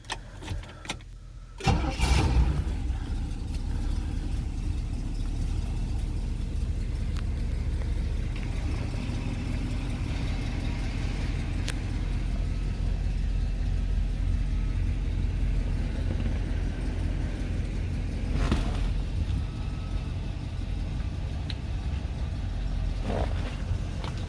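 A 1966 Oldsmobile Toronado engine cranks and catches after a brief pause, then settles into a steady, even idle with a low rumble that runs on close by for the rest of the stretch.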